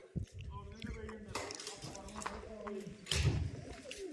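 Low, soft pigeon coos sound close by, mixed with voices talking and a few faint knocks and clatters in the background.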